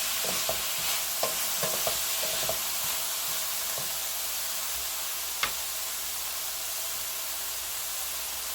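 Garlic asparagus sautéing in a pan, a steady soft sizzle with a few light clicks of stirring near the start and one sharp tap midway, with no voices.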